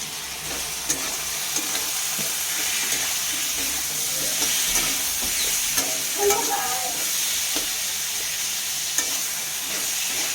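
Chilli spice paste with turmeric and green and dried chilli fried in a pan, a continuous close sizzle with intermittent scraping stirs and a few sharper clicks, with no voices.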